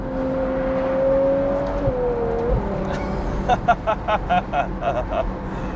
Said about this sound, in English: I dearly hope the microphone is able to convey the sound and feeling of this car